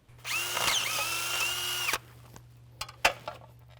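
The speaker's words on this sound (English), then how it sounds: "So we got a couple of holes to drill." Power drill boring holes in a 12v Cummins engine near the T3 turbo flange: one close, steady high whine for over a second and a half, then stopping, followed by a few sharp clicks and taps.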